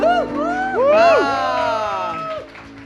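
A church congregation at a Sunday service cheers and shouts in welcome of the children's ministry kids, loud and lively crowd voices with whoops and some clapping mixed in, close and dense.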